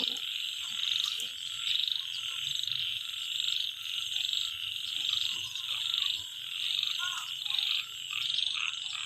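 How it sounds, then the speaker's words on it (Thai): A dense chorus of frogs croaking continuously, with a steady high-pitched trilling layer and pulsing swells, no voices. "เสียงกบร้อง"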